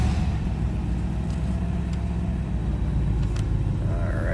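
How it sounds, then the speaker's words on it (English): A 1983 Mercedes-Benz 500SEL running with a deep, steady low rumble close by, holding constant for a few seconds with a faint rising whine near the end. "Let's go ahead and start this up."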